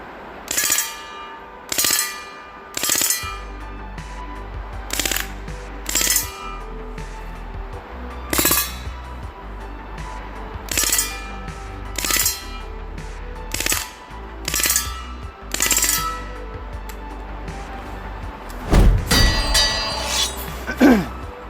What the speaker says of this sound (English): now for the fun switch and full auto. Let's try to keep it within controlled bursts